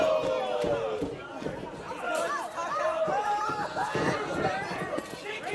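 A wrestling crowd in Atlanta, Georgia roars and yells in a dense, sustained wall of cheering and shouted voices that swells and stays loud throughout, with scattered individual shouts rising above the babble.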